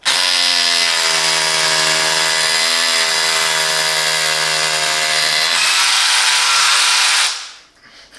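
Loud, sustained rattling whine of a Parkside PABH 20-li cordless hammer drill hammer drilling through brick with concrete filling, running steadily for about seven seconds before winding down and stopping.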